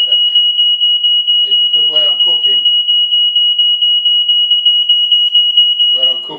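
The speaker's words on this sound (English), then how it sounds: "got a smoke alarm rather than a heat sensor" A smoke alarm in a kitchen beeps in rapid, continuous high-pitched pulses, loud and close, while a person talks briefly over it.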